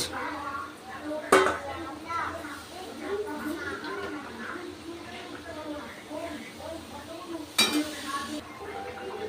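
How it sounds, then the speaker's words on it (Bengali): Pre-fried fish goes into a boiling curry broth with red amaranth and potatoes, with soft bubbling, two sharp metal clinks of utensil on pan and a voice talking throughout. "এবার দিয়ে দিচ্ছি আমি ভেজে রাখা মাছ।"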